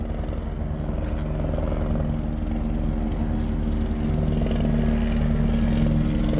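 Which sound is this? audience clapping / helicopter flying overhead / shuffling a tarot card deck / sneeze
helicopter flying overhead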